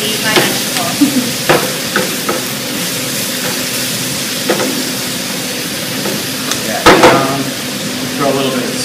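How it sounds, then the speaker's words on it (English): Escarole sautés in a pan with a steady sizzle and hiss broken by sharp clinks and scrapes of stirring, with brief bits of talk at intervals. "Saute this with all that good stuff until it wilts a little bit"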